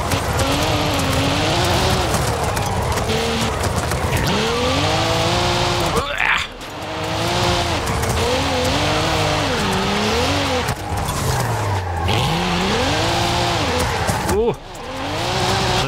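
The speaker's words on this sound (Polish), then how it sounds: "To są moje pierwsze ślizgi teraz." Cadillac CT4-V Blackwing with a manual gearbox drifts in Forza Horizon 5, its engine note rising and falling through repeated revs while tires squeal, with brief gaps between slides; speech is present throughout.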